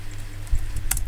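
Fingers tap a few quick keystrokes on a computer keyboard, light clicks in a loose rhythm, close but soft over a low steady room hum, with no voice.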